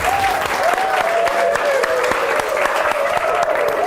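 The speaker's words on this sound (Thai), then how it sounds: "ขอเสียงปรบมือให้กับ 25 คนสุดท้ายของเดอะสตาร์คนฟ้าคว้าดาวปี 10 ครับ" Applause from a studio audience for the final 25 contestants at a televised singing competition's pre-final audition, a steady dense wash of clapping filling the room throughout.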